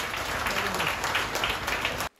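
Crowd applause at a night-time jatra folk drama performance in Keonjhar, Odisha. A short, dense burst of clapping from a large audience stays steady, then cuts off abruptly.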